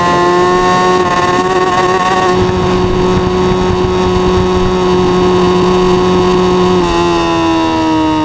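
A Suzuki Hayabusa 2024 motorcycle screams at top speed in sixth gear on a highway, a loud sustained high-pitched engine whine with strong harmonics and heavy wind roar, the pitch dipping and climbing again near the end.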